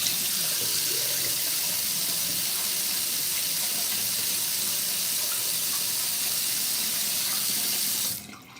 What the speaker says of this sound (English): You're gonna do some cool water on the face, some cold water, cold as you can stand it.